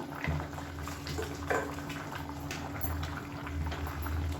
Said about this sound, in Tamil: இப்போ தண்ணி நல்லா கொதிக்க ஆரம்பிக்குது.